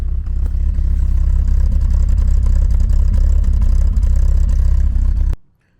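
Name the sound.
Porsche 924 engine revving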